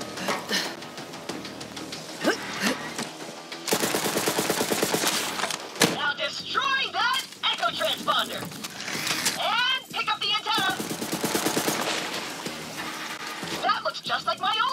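Video game gunfire in Borderlands 3, repeated bursts of rapid automatic shots and scattered single reports with a watery, mechanical game backdrop, moderately loud, with people talking over parts of it.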